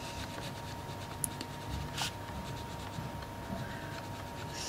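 A colouring pencil scratches steadily across paper in a continuous soft rasp with a couple of sharper ticks, close and quiet with no talking.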